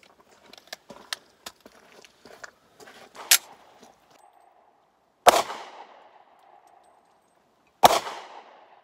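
Sharp, loud gunshots from a Kahr P40 pistol loaded from a 6-round magazine, a few spaced reports with ringing decay, preceded by lighter clicks and handling noises.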